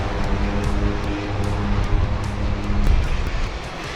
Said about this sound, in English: Just these planes flying off the edge of this mountain, landing on this steep slope.